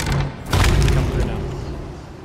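One heavy booming sniper rifle shot from the pirate game Sea of Thieves cracks out after a brief lull and fades in a rumbling tail, with a low murmur of voices underneath.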